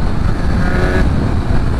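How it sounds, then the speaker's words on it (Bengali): Motorcycle cruising at over 100 on the road, a loud steady engine drone mixed with heavy wind rush throughout. "ও ভাই 100-এর উপরে বাইকের স্পিড উঠে গেছে।"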